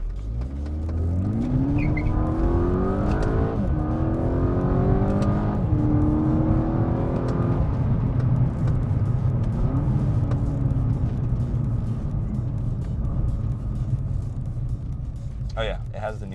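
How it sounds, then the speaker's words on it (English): A Volkswagen GTI with a DSG gearbox and an aftermarket intake revs up through several paddle-shifted gear changes in a 0 to 60 run, pitch climbing and dropping with each shift, loud and steady throughout. "We'll do a quick 0 to 60 run."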